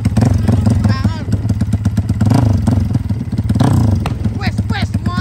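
A Yamaha MX King motorcycle engine runs loud and close with a constant throaty drone that rises slightly in places, while voices talk over it.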